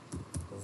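HTML code being typed on a computer keyboard, a few quiet key clicks in quick succession, close and faint, no voices.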